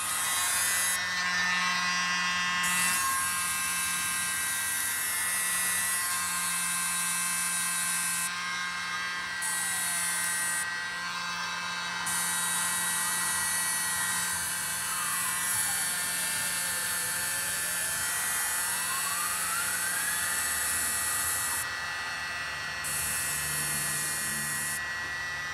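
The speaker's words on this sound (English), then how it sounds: "I love this little blow dry, mini blow dry." A mini blow dryer blows on a seascape resin pour in a tabletop mould, giving a steady, close, high-pitched motor whine and airflow whose pitch rises and falls as it moves.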